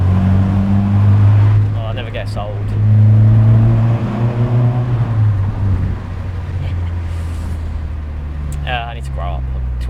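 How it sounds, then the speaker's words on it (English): A deep, droning car exhaust rumbles steadily and swells louder for a moment, echoing through a tunnel, with someone talking over it. "Listen to the sound of my exhaust, really. Listen through the tunnel."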